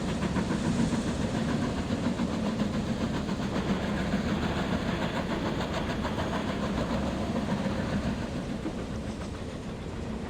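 A passenger train running in Transport Fever 2, a steady rumbling roll with rhythmic clickety-clack from the wheels, loud and continuous throughout, fading slightly at the end with no voices.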